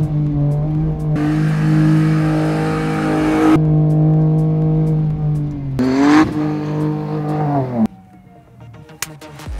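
Car exhaust fitted with a twin-in twin-out Magnaflow muffler and X-pipe on a turbocharged engine, droning loudly at steady revs, then revving up and dropping back before settling to a quieter idle.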